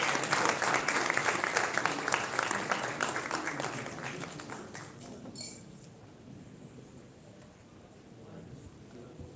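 A crowd at an executive business dinner applauds loudly with dense clapping that gradually fades out, leaving quiet room noise.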